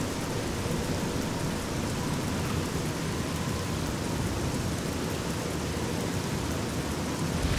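Steady heavy rain pours continuously in Fallout: New Vegas, a dense, loud wash with low rumbling that suggests thunder, filling the whole stretch without a break and with no voices.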